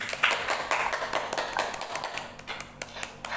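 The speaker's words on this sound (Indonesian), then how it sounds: "Tepuk tangan deh buat semuanya." A class claps for everyone in dense, scattered handclaps that start strong and taper into sparser, lighter claps toward the end.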